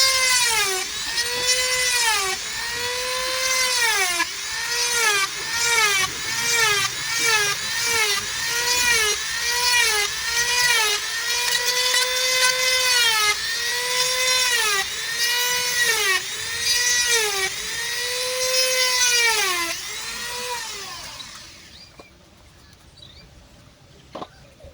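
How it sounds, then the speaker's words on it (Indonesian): A 3 mm bit drilling holes in parts for a zebra dove (perkutut) cage, the drill whining in a long run of rising and falling bursts, loud and close, then stopping near the end. "Dengan lubangnya itu saya akan menggunakan bor ukuran 3 mili ya teman-teman ya"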